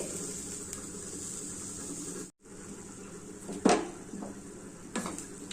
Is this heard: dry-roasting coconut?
yes